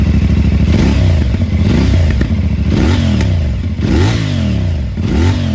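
A CFMoto 450 twin-cylinder motorcycle with a 270-degree crankshaft revs hard in repeated bursts, its loud, throbbing exhaust rising and falling several times, with crackling pops on the overrun, close and alone.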